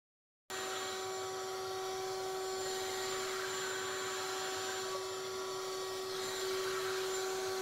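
A router with a bearing-guided cutter works a wooden drawer piece, giving a steady high-pitched whine that starts abruptly and then holds constant and close throughout.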